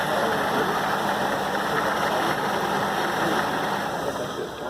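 A running engine idles steadily at 20 psi fuel pressure during a fuel pressure test, a dense, constant mid-range drone with a faint knock-like texture that holds throughout and eases slightly at the very end.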